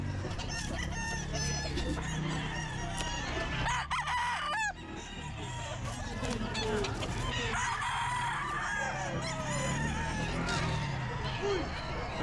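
A gray gamefowl bullstag rooster crows at a busy pet market, with several loud crows and clucks over a dense crowd din of chatter and other birds.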